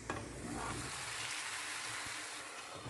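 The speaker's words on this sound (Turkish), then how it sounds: "Tavayı tekrardan yağlıyorum ve diğer tarafını da aynı şekilde kızartalım." Steady, quiet sizzling of potatoes frying in oil in a pan over low heat, continuous crackle with no talking.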